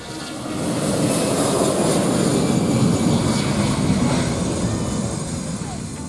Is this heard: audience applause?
no